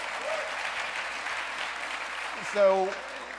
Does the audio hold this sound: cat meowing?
no